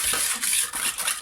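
A utensil stirs apple cake batter in a bowl, with quick close scraping and clinking strokes in a brief burst of about a second.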